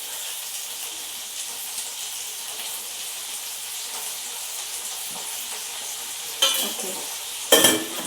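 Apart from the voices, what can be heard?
fish pieces frying in oil in a pan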